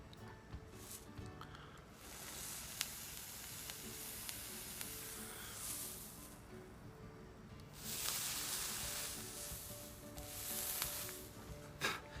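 A vape coil fires with steady e-liquid sizzle and hiss, rising in louder bursts around the middle and end of the hits. The fused Clapton coil, built with Wrappers Delight SS316L wire, crackles up close with no talking.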